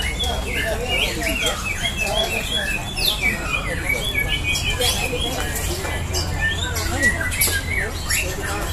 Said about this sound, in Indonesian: Sudah pertarungan burung